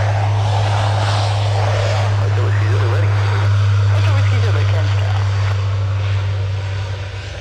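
Aircraft passing at Cairns Airport, a loud low engine rumble with a strong droning hum, while people talk over it.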